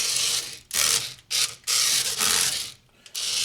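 A Hexbug BattleBots Beta toy robot drives in several bursts, its gears giving a loud, harsh grinding whir that starts and stops in short spurts with brief pauses between, close up and without talk.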